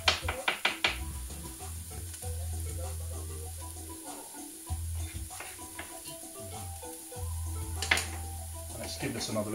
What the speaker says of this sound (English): Let's give this another little stir